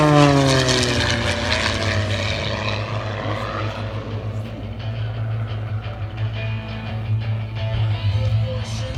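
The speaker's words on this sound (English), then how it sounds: "Nice slow roll of an Airshow center" A propeller-driven aerobatic airplane flies a slow roll at an airshow, its engine a loud, continuous droning roar with the pitch shifting as it passes and turns.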